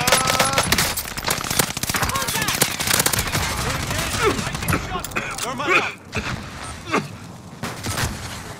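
Rapid automatic gunfire bursts from a Call of Duty match rattle loudly and continuously, with shouted player voices talking over the shooting.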